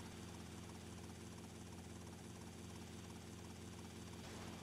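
A helicopter in the video game GTA Vice City drones steadily and close, a dense rotor and engine roar holding at constant loudness throughout.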